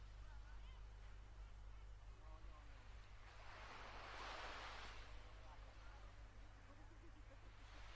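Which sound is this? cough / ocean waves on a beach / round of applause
ocean waves on a beach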